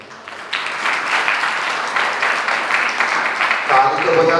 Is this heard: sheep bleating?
no